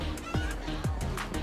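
Chickens in Minecraft: Story Mode give a few short, clipped clucks and honks, two louder calls standing out over steady game background sound, with no talking.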